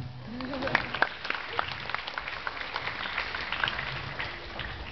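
An audience at a Pecha Kucha presentation night in Bangkok claps in a scattered, modest round of applause with a few sharper individual claps. It is heard from some distance under a faint murmur of voices.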